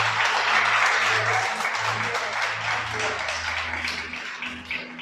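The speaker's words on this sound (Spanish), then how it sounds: "Un aplauso al Creador." Congregation applause during a Shabbat sermon, steady sustained clapping from a crowd filling the room, with a low hum beneath and no speech.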